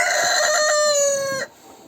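A single rooster crows loudly and close, one long drawn-out call that cuts off abruptly into quiet.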